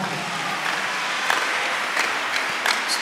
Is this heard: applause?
yes